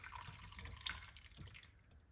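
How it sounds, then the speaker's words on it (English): Lime, ginger and honey drink pouring into a cup, a quiet trickling splash that rises briefly and then tapers off. "And pour it off like this."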